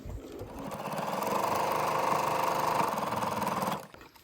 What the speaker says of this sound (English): do a little back stitch and just stitch all the way down there